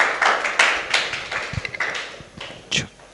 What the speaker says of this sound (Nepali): हाम्रो टिचरलाई ताली बजाएर स्वागत गर्नेछौँ